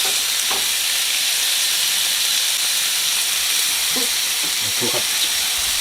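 Lamb with chili powder and hot sauce sizzling in olive oil in a hot pan over medium-high heat: a loud, constant frying hiss, close and dense, with a few faint clicks of stirring.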